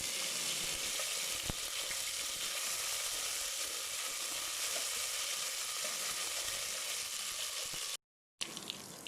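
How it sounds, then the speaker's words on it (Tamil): Steady hiss and crackle of ginger garlic paste frying in a hot pan, continuous and close, with a brief silent gap near the end. "இஞ்சி பூண்டு வாடை போகிற வரை நல்லா வதக்கி விடுங்க."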